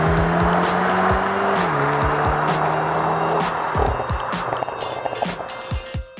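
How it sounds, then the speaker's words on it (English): A Hyundai Elantra N Line drives steadily, its engine droning loud and close with rising and falling pitch as it shifts, tire noise underneath, easing off toward the end. "Keeping our commute fun is this all-new fluid metal Hyundai Elantra N-Line"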